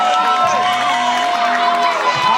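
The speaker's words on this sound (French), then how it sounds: "Applaudissez, encouragez les sapeurs." Crowd at a school Christmas event cheering and chanting for firefighters, loud continuous voices with sustained shouting throughout.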